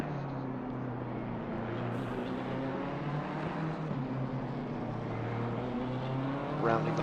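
A BMW race car in a racing video game endurance qualifying session at Laguna Seca blasts past on the final corner toward the start-finish line, a steady droning engine tone with a brief rising whine near the end.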